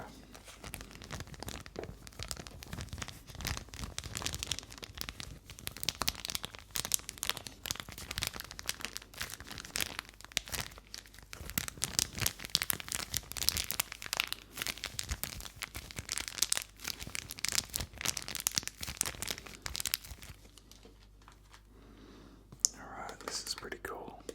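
Plastic wrapping crinkles and tears close by as it is peeled off an item during a quiet indoor unboxing, the rustling dense and continuous under soft whispering, fading near the end.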